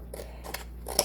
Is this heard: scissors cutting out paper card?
yes